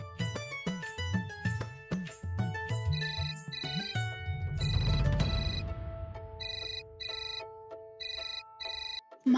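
A mobile phone ringtone rings indoors in a Marathi TV serial scene, a loud melodic electronic tune with repeating tonal phrases that runs for several seconds and ends in steady, regularly pulsing beeps.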